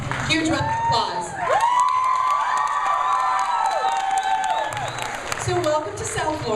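Crowd cheering and whooping with some applause at a Miami screening Q&A, a loud sustained roar with high shouts that swells after the first second and fades toward the end.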